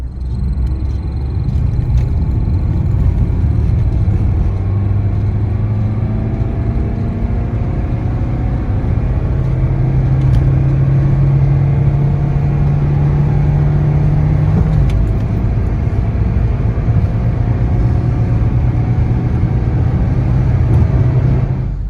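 Diesel Peugeot car with a tuning box fitted, driving and accelerating, heard as a loud, continuous engine drone and road rumble from inside, with pitch rising through the gears and a brief change partway, no talk.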